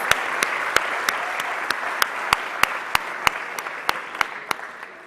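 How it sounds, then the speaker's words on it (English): Graduation audience applauding steadily in a large hall at a masters ceremony, a dense even wash of clapping with occasional sharper single claps standing out, continuing without talk for several seconds. "Let's give him another round of applause"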